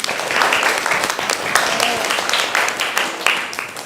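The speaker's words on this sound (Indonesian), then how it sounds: "Oke, biar semangat, tepuk tangan semuanya." A class of students claps together in a classroom, a loud, close burst of many hands with some rhythmic surges, lively voices calling out beneath the clapping.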